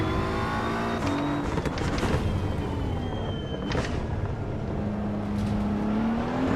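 A BMW M4 GT3 Evo race car in Assetto Corsa EVO at Laguna Seca accelerates hard, its engine note rising through gears with brief shift cuts, loud and continuous from an onboard perspective.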